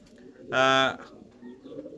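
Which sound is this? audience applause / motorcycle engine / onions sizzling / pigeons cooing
pigeons cooing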